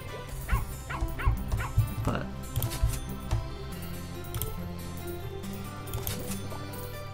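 A dog in the farming game Plantera gives a series of bright, yippy barks and short whimpers near the start, then fainter yips further on, over light game music.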